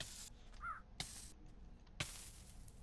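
Crows caw in a modded Minecraft video game, two sharp single calls about a second apart over a quiet ambient background, with a faint higher chirp earlier.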